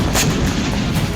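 Hezbollah rocket strikes hit Israeli army positions in Safed, giving a dense, loud roar of blasts and rumbling impacts that runs without a break through the short stretch, with no talking.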